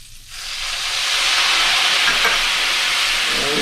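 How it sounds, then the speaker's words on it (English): White wine poured into a hot pan on low heat to make a shrimp scampi sauce, bursting into a loud, sustained hissing sizzle after a brief quiet start, with no talk. "We're going to put our wine in here."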